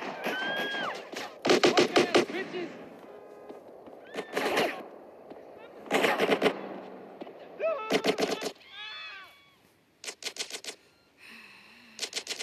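Rapid bursts of video game gunfire, several separate volleys of quick clattering shots with short gaps between them, mixed with other game sound effects and brief excited voices.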